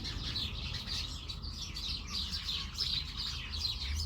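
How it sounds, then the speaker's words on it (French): A flock of house sparrows chirps steadily in a garden while feeding on sunflower seeds, with busy overlapping tweets heard at a moderate distance over a soft, constant background hum. "une myriade de petits moineaux qui viennent déguster les graines de tournesol que je leur mets"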